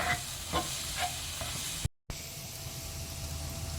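Pav bhaji masala and garam masala fry in a pan, a soft continuous sizzle with light stirring scrapes, heard close and fairly quiet, interrupted briefly by a short dropout.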